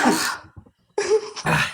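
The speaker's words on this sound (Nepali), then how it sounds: "म खोक्छु एकछिन खोक्छु है" A person gives two harsh coughs or throat-clearing bursts close to the mic, separated by a brief near-silent pause, with no talking in between.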